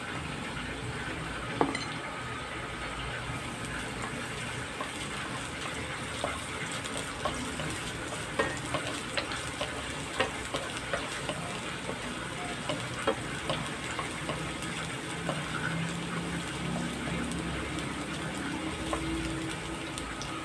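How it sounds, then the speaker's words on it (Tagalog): Garlic sautéing in cooking oil in a frying pan (kawali) while preparing a Filipino fish kinamatisan dish; a steady broad sizzle runs throughout, with scattered light clinks and scrapes of a utensil against the pan. "Lalagay lang ako ng oil sa mantika, sa kawali. Gisa natin ang bawang."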